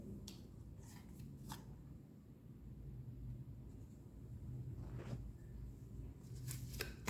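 Tarot cards are shuffled and drawn from the deck, giving faint, close papery riffling and soft flicking with a few sharper card snaps over a low background hum.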